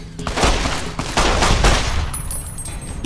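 Repeated gunshots blast loudly in Fallout: New Vegas, a dense burst of broadband cracks with ringing tails, forming an irregular volley over about three seconds with no talking.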